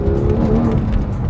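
A Porsche 911 GT3 with a manual gearbox is driven hard, its engine roaring close and loud throughout the brief moment.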